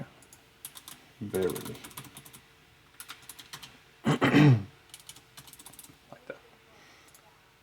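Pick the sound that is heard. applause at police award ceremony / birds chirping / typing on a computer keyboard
typing on a computer keyboard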